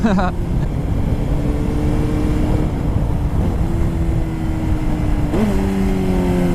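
A Honda CBR954RR sport bike on a test ride, its engine droning loudly and steadily with rising and falling pitch through gear changes, wind noise throughout.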